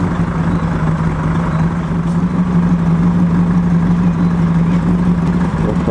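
A classic Mercedes-Benz eight-cylinder engine idles in a steady, even low drone close by, loud and unbroken with no talk.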